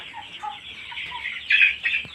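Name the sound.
chickens clucking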